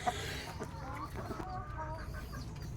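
Chickens cluck and murmur in a steady, busy chorus at moderate distance, with faint background noise throughout.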